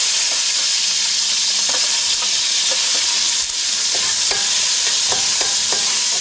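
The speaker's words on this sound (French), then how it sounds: "Les oignons qu'on fait revenir dans un peu d'huile" Onions sautéing in a little oil for a Réunion-style rougail morue, a steady loud sizzle broken by repeated scraping clicks of a utensil stirring the pan, with no talking.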